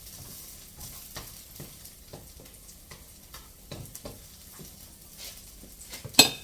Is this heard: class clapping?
no